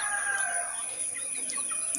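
Country chickens cluck and crow softly in the background, with a steady high-pitched hum running throughout and no talking.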